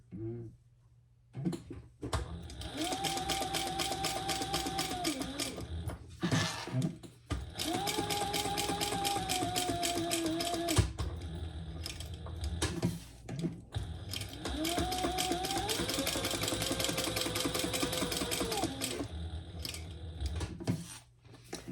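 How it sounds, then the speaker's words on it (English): A sewing machine top-stitches around a crossbody belt bag phone pouch, running in three long, steady mechanical stretches separated by brief stops, with quiet handling between. "All right, let's top stitch all the way around."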